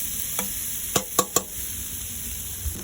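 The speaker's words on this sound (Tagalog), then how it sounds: "kapag kasangkutsado na, lalagay na natin ngayon yung inagad natin na mais na puti." Grated white corn sautés in a pan with a soft, steady sizzle, broken by a few quick spoon taps against the pan clustered near the middle; close by, no voices.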